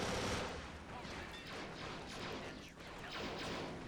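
Blaster rifle fire crackling through a Star Wars: Galaxy at War mod battle, continuous overlapping shots and rumbling impacts at a fairly faint, distant level.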